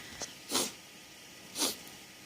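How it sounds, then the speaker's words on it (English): Two short, sharp sneezes about a second apart, close and fairly quiet, with a faint breathy sound before the first. "I was like sneezing up a storm"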